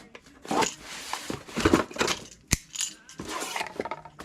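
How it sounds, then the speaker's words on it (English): A shipping package being opened with a blade, with irregular crinkling, tearing and rustling of packaging material and one sharp snap, close up and fairly loud with no talking. "let's go ahead and open this package up"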